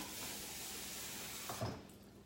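Warm water runs steadily from a tap into a Sistema Tupperware lunch container holding a hard-boiled egg, a close, continuous hissing rush that briefly shifts in tone near the end.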